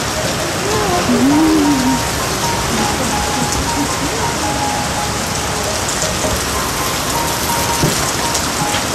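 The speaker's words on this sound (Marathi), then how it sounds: "खूप म्हणजे खूपच पाऊस आहे" Heavy rain pours steadily in a dense, continuous roar, with a brief faint voice-like tone early on.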